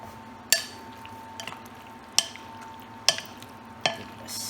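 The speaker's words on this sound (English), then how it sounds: "Give it a stir" Lemon chicken juice in a pan is stirred with a whisk over a faint steady simmer, with four sharp clinks of the utensil against the pan spaced about a second apart.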